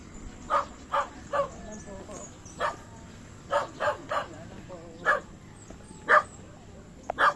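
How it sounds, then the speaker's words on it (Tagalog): A dog barks in rapid bursts outdoors near an old historical dam in Tanza, Cavite: about a dozen sharp, fairly close barks in uneven clusters, with faint background noise and people talking. "Ingat sa aso, ha."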